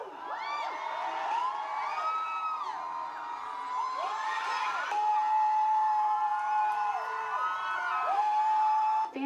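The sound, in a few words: Coachella 2019 crowd cheering and yelling at a performance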